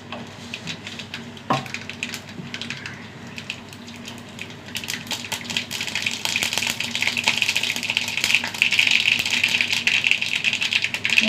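Mustard seeds hit hot coconut oil in a frying pan and begin to crackle, starting as faint scattered ticks and building over several seconds into dense, continuous spitting and popping.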